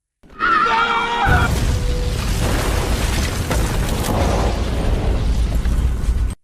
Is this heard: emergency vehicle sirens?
no